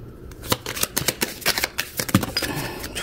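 Playing cards shuffled by hand in a quick run of crisp riffling flutters, with a few cards dropping loose, close and fairly loud with no talking.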